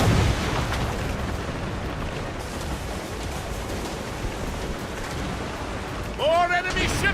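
Naval cannon fire in Assassin's Creed Rogue: dense, continuous rumbling blasts and broadband battle noise throughout, with a louder burst near the end and a voice shouting in between.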